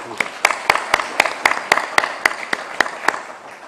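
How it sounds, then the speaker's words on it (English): Applause at an academic conference on geopolitics and geoeconomics: a few hands clapping in a slow, even rhythm of distinct sharp claps, close and fairly loud, with a light murmur underneath. "So I want to give all of you a big round of applause as well."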